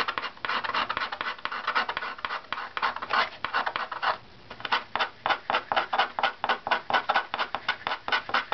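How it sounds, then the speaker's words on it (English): Repeated scraping strokes of a hand scraper shaving wood from an instrument top plate, a rhythmic series of short raspy passes, slower at first and then quick and evenly spaced, close and clear with no talk. "and then just use your scraper to remove that material."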